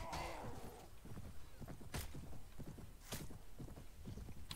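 Horse hooves thud in a rapid, steady galloping rhythm during a mounted charge in the medieval combat game Mount and Blade: Warband, with occasional sharp clashes cutting through the continuous hoofbeats.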